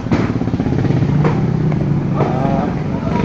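A motorcycle engine idles and revs close by at a street demolition site in Pasig, its steady chugging running under talk.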